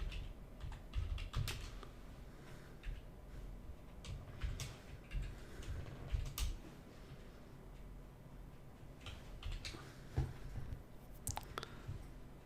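Fingers typing code on a computer keyboard, quiet irregular clicks in short rapid bursts with brief pauses, close and soft in a still room with no voices.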